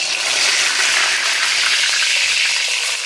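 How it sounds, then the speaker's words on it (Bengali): Eggplant pieces fry in hot oil, a loud, dense and continuous sizzle heard up close with no voices. "তেল গরম হয়ে গেছে এক একটা করে তেলে ভেজে দিয়ে দিই"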